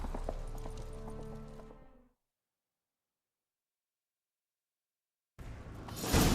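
Rapid hoofbeats of a galloping horse in The Witcher 3 on PS4, fairly close, then a stretch of complete silence before the galloping resumes loudly near the end.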